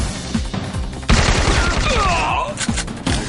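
Rapid bursts of gunfire from a G18 pistol in a shooting video game, loud and sustained through most of the span with repeated sharp shots, some low booms underneath and brief voice sounds.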